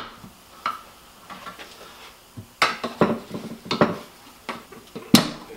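Metal tire lever prying a motorcycle tire bead over the rim edge on a Maxim XJ650 cafe racer wheel, a series of sharp metallic clinks and scrapes, close and fairly loud, some clustered together, with no talking.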